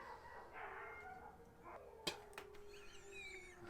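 Several dogs bark and howl far off outdoors, faint wavering howls with a few sharper barks rising over a quiet background.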